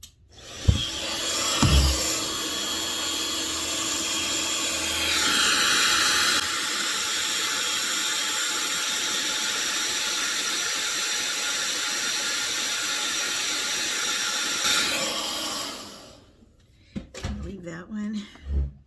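A hair dryer runs over permed hair set in silicone rollers, a loud steady whoosh that starts after a few clattering handling sounds and runs for about ten seconds before cutting off.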